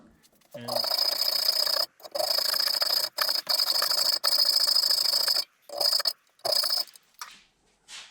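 Cutting a supercharger part at the marked spots makes a harsh, hissing grind in repeated bursts of one to two seconds each, separated by short pauses. It is close and fairly loud, with no talk over it.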